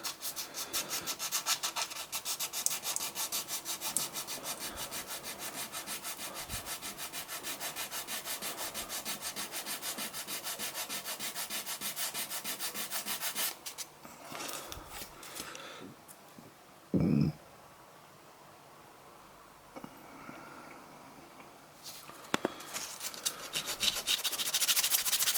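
An alloy wheel is sanded by hand to smooth out small divots before it is sprayed. A close, steady rasping scrub runs for about half the time, then gives way to scattered short strokes and quiet stretches.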